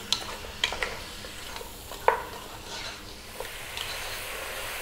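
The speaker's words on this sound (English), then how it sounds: "we're going to throw this lamb around for about 6 or 7 minutes on an above medium heat" Lamb pieces frying in a pan over above-medium heat for an Ethiopian lamb dish, a steady soft sizzle with a few light scraping stirs and clicks, close and alone without talk.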